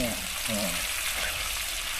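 Loud, continuous sizzling of fish stir-frying over high heat in a large wok, a dense hiss with brief scraping of a utensil in the pan.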